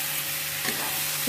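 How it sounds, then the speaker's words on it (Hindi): Masala frying in oil in a pan for Bengali dhokar dalna, stirred continuously: a steady, close, loud sizzle with scraping stir strokes throughout the short stretch, no voices. "ध्यान रखें मसाला लगातार चलाते हुए भूजें"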